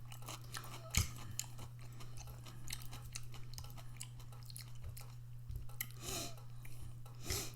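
Crunchy Japanese barbecue pork loin and salad with purple cabbage being chewed close to the mic, soft repeated crunching and mouth sounds over a steady low hum, with one sharper bite near the start.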